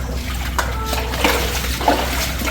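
Water flows through the underground falaj tunnel at Hatta, a steady gurgling trickle with small splashes heard close by, softly echoing, with no talk.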